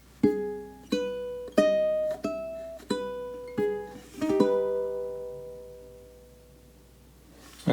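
A ukulele picks out measure 4 of the opera aria Nessun Dorma, a series of about seven clear plucked notes and chords with decaying tails, alone and close, ending in a long ringing note.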